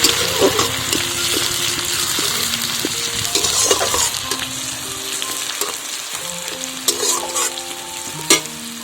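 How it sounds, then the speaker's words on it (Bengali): Neem flowers frying in hot oil, a close, steady sizzle with scraping stirs and clinks running throughout, no talking. "তেলটা গরম হয়ে যাওয়ার পর এর মধ্যে আমি দিয়ে দিলাম নিমের ফুল নিমের ফুলটাকে লালচে করে ভেজে নিতে হবে"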